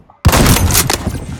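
Gunshots in the Phantom Forces video game, a sudden loud blast that cuts through near silence and rolls on in a brief, dense burst of shots.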